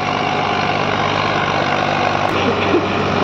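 A tractor pulls a 9x9 harrow through a field, its heavy diesel engine giving a loud, steady, low rumble throughout, and a voice speaks over it.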